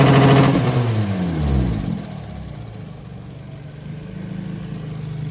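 A 1979 Camaro Z28 with an LSX engine revs hard and loud up close, then the revs fall away and it settles into a deep, rumbling idle with no talking.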